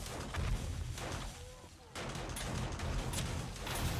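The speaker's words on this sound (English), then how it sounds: "The side of all the explosions, yeah." Booming explosions go off in the survival video game 7 Days to Die, a dense string of blasts and crackling fire with a short lull in the middle and a quiet voice underneath.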